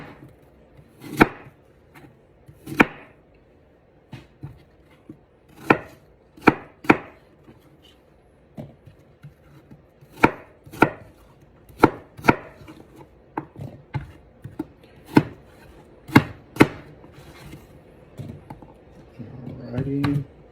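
Apples for an apple crisp are chopped with a knife on a board, sharp close irregular knocks spread across the stretch, some in quick clusters, with occasional brief voice underneath.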